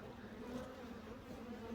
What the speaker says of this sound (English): A lot of bees are there.